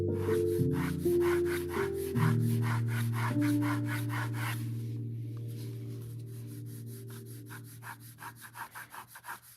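Pencil sketching on paper for an electric vehicle concept design: rapid rhythmic scratchy strokes close up, with a sustained low hum and tonal music underneath, the strokes turning slower and more spaced toward the end.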